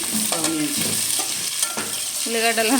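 Onions fry in a pan and are stirred, giving a steady loud sizzle with scraping stirs close by.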